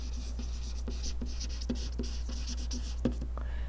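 A pen or marker writes the equation of a circle on a board or tablet, making a series of short scratchy strokes and taps at an uneven pace over a steady low electrical hum, with no voices.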